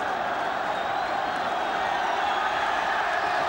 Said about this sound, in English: The crowd are giving them the sort of rapturous welcome at that end